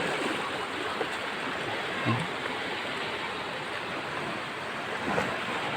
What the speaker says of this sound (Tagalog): Pumapalo yung tubig dagat sa mga bato. Ayun lalo't ganitong oras, medyo malakas na yung alon.